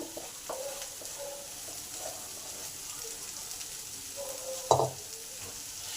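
Fish roe crumble and a boiled egg fry with potatoes in a pan, giving a faint, steady sizzle with a few soft stirring scrapes and one sharper metallic clink near the end.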